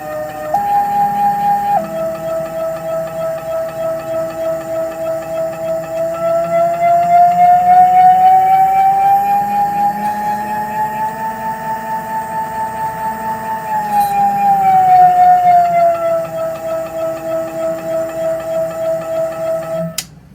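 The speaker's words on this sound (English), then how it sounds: "Turn on the power and wait for acceleration to complete." A motor on a homemade shredder spins up and holds a steady electric whine that slides up and down in pitch as the speed is adjusted, loud and close over a low hum, with no talk.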